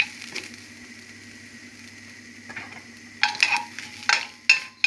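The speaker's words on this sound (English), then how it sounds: "So let it roast for a while." Cinnamon sticks and red chilies dry roasting in a pan for homemade chole masala powder, with quiet scraping and a few sharper stirring clatters against the pan over a low steady hum.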